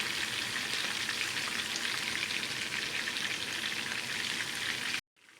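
Kashmiri chapli kebabs topped with tomato slices fry on low heat with a dense, steady close sizzle and crackle that cuts off abruptly at the end, with no voices.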